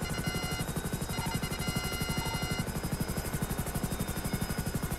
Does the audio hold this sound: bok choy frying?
no